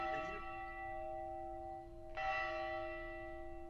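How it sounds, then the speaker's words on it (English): A bell tolling outdoors in a Call of Cthulhu: Horror on the Orient Express session scene, two distinct ringing strikes with long sustained resonant tails, the second louder, heard alone without speech. "you hear a bell tolling"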